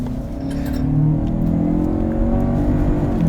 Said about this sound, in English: Currently driving in the 2019 Lincoln Nautilus